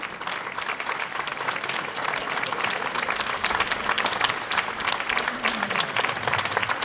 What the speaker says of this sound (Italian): a cui dedichiamo subito un applauso